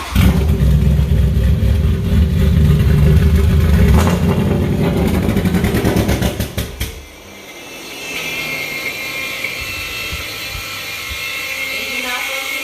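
A turbocharged BMW E92 M3 engine roars loudly and revs hard up close, then abruptly cuts off and falls to a quieter, lower idle-like murmur.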